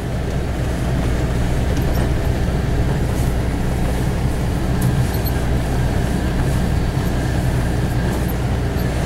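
Car drifting through snow, heard as a steady, loud rumble of engine and tyres churning snow, continuous and close throughout with no talking.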